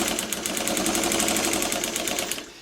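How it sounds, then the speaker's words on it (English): A domestic sewing machine stitches a quilt seam with a steady, rapid mechanical whir and regular needle ticking, close and loud, with no talk. "doing it on a sewing machine like this, a domestic"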